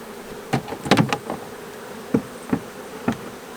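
Honey bees buzz steadily up close at an open long hive against a noisy background, broken by a few sharp knocks and clicks of wooden hive parts being handled.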